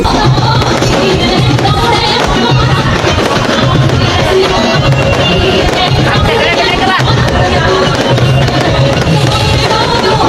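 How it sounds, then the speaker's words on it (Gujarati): Dense, continuous crackling and popping of firecrackers at a birthday celebration, mixed with loud crowd chatter and shouting, filling the whole stretch without pause. "પછી તો ફોડી નાખ્યા ફટાકડા"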